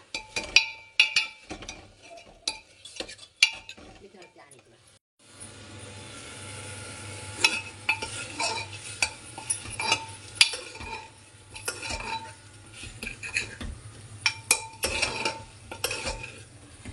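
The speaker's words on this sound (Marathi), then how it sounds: "मग हे चांगलं मिक्स करायचं." Spiced bitter gourd with peanut powder is stirred in a pan: a spoon scrapes and clacks against the metal in irregular strokes, pauses briefly, then resumes over a soft, continuous sizzle.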